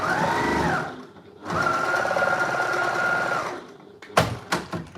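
A sewing machine stitches quilt squares for a charity quilt, two loud close bursts of rapid humming stitching with a short pause between, followed by a few sharp handling clicks.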